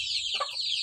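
A native hen gives a single short cluck close by, set against a steady high background hiss.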